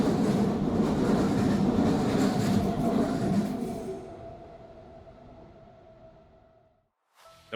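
A train rumbles and clatters loudly past, used as a sound effect, then fades steadily into the distance and drops to near silence before a short click at the end.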